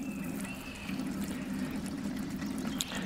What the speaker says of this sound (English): I'm pressing it in because I like a high pressure power wash.